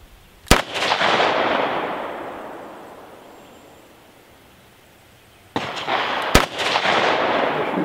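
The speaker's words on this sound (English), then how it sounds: "You're shooting a little bit low, I think, Don." Two loud gunshots at an outdoor shooting range, each a sharp crack followed by a long rolling echo that slowly fades, spaced several seconds apart with no talking.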